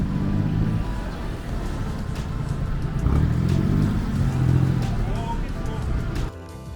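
A car drives up to the old Brentwood Mall, its steady engine rumble and road noise filling the whole stretch with mild swells of acceleration, under voices talking inside the car.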